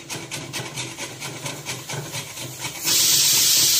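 A pressure cooker on the stove for tomato rasam and rice: rhythmic rubbing and scraping first, then a loud, steady rush of hissing steam bursts in and holds to the end.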